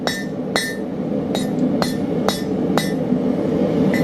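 A hammer strikes hot iron while forging nails, giving seven sharp, ringing metallic blows at an uneven, quick rhythm, close and loud over a low background hum, with no talking.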